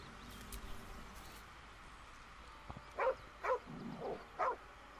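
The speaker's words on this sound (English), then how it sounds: "A doggy." Dog barks in Baldur's Gate 3, four sharp, fairly loud barks in quick succession standing alone over a quiet game backdrop.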